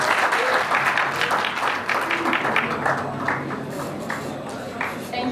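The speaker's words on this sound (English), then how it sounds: "we think that we need to give a round of applause to all the team which made it possible" Audience applause at an international educational conference, a dense wash of clapping filling a large hall, steady and loud for several seconds and tapering slightly toward the end, with no voices on top.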